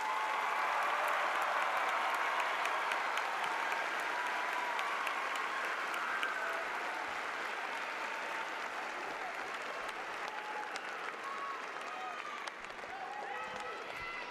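Steady applause from a large crowd at a high school graduation ceremony fills the whole stretch, a dense, sustained wash of clapping heard from a distance.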